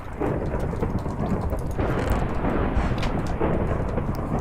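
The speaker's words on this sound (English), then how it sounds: "Jeez, this thunderstorm." A heavy thunderstorm in a Minecraft FTB modpack world, with dense, steady rain roaring close and low rumbling thunder rolling underneath, swelling slightly midway and holding throughout.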